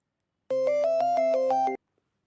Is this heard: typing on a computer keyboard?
no